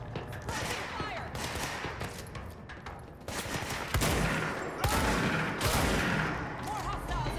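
Sustained gunfire in the video game Control, with rapid overlapping bursts and heavy thuds running throughout under a loud, dense battle mix, while voices shout over the shooting.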